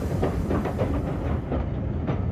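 Train at a station platform, a steady rumbling roll with rhythmic clicking of wheels on rails, fairly loud and continuous with no voices.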